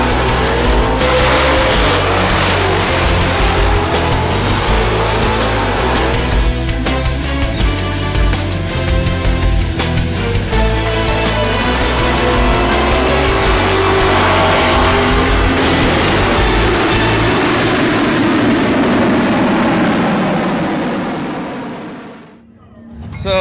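Loud drag racing cars at a night drag strip event roar continuously for over twenty seconds, engines revving hard with a brief tire screech, the dense mechanical noise staying close before suddenly cutting off at the end.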